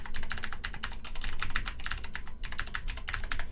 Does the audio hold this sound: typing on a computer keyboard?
yes